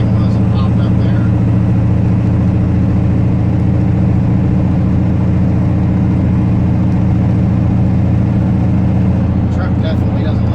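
Diesel pickup truck engine running rough after a Hydra tuner install, a loud, continuous low idle with an uneven pulse throughout, close and steady, with faint talk at moments.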